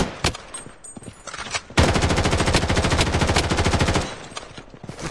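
Rapid automatic gunfire in the mobile shooter game Blood Strike, a few scattered shots followed by a loud sustained burst of evenly spaced rounds lasting about two seconds, then tapering off.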